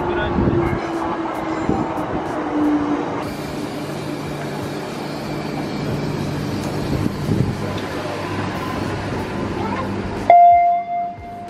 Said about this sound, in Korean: 때마침 열차가 옵니다.